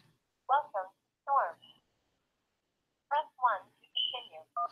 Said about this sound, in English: it start to dial the first number